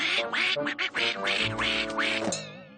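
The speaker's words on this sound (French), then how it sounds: "Moi, elle me transforma en canard." Cartoon duck quacking in a rapid series of loud, nasal quacks close up, several bursts in a row before trailing off.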